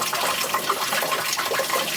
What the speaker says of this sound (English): It's just full of boiling hot water.